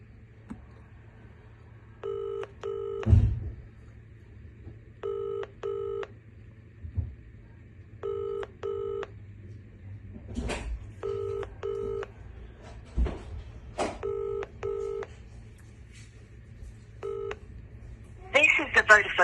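Pairs of keypad dialing beeps repeat at steady intervals on a phone call to Vodafone voicemail, clear and close over a low hum, with occasional knocks and brief voice at the end.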